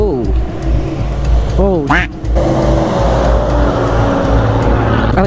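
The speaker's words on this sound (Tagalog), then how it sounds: "Matarik talaga mga tol. Mahihirapan ang tricycle dito." A motorized tricycle engine labors loudly up a steep road near Lintungan Falls in Nueva Vizcaya, its pitch climbing and wavering as it strains, with a brief exclamation from a person partway through.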